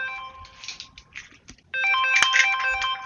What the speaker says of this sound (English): And I got a phone call here